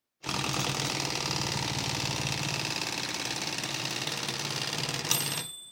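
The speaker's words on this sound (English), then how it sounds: "will the automatic keys still work?" Royal Epoch electric typewriter running its automatic repeat keys, a fast, steady mechanical rattling and whirring that starts abruptly, holds continuously for several seconds, then stops with a final clack.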